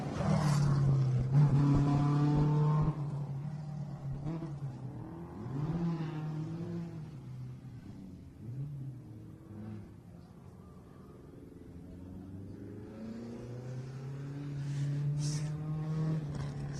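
A two-wheel-drive rally car engine roars past, revving hard and dropping as it shifts, the pitch sliding up and down through the corner before fading somewhat, then building again, at the Adelaide Hills Rally.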